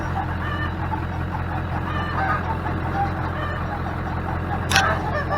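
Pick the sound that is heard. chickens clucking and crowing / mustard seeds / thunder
chickens clucking and crowing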